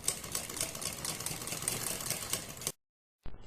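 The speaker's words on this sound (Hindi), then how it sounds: "पाइपिंग के और इस पट्टी के बिल्कुल बीच में सिलाई लगानी है।" A sewing machine stitching piping onto a boat neck strip runs in a fast, steady mechanical chatter close by, then stops abruptly for a short gap before starting again.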